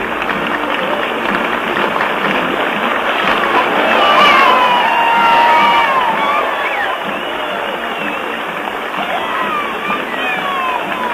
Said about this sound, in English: That's anticipatory applause.